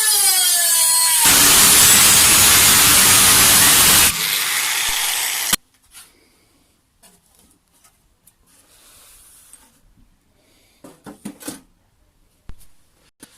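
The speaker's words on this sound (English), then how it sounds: "the angle grinder has an easier time. Right, let me go and cut that." An angle grinder cutting through a metal jerry can gives a loud, steady roaring whine for about five seconds, then cuts off abruptly, leaving faint clatter and handling noises.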